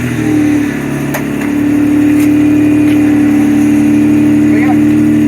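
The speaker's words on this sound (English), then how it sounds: "Let me start it up for you. It's got a straight pipe exhaust, so it's kind of loud and obnoxious" Lexus SC300 with a straight pipe exhaust starts and settles into a loud, deep, steady idle that rumbles close by; a few faint clicks and a brief squeal sit above the drone.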